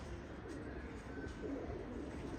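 Soft, low pigeon-like cooing murmurs along steadily, fairly quiet, with a faint hum of background noise and no voices.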